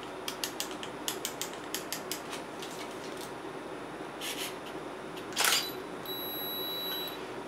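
A DSLR camera fires at a 1/30-second shutter speed with flash: a run of quiet mechanical clicks, then one louder shutter snap, followed by a thin, steady high whine as the flash recharges. Close and fairly quiet, with no talking.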